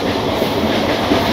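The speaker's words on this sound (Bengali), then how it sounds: "লোকাল ট্রেনে?" A local passenger train on the Howrah to Digha line rolls along, a loud, continuous rumble of wheels and carriage noise heard from inside the coach.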